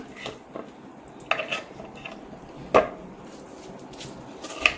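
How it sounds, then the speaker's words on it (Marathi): A knife cutting into a large watermelon, with a few sharp, separate cutting knocks and thuds over a quiet room background, no speech. "तर मी एक कलिंगड घेतले मोठं, तर आता आपण त्याला कापू"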